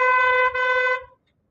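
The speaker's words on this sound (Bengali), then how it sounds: "এখানে হর্নটা মারাটা খুব দরকার" A vehicle horn honks once in a steady, loud blast of about a second on a solo ride, its stacked harmonic tone holding over low road rumble before cutting off abruptly into near silence.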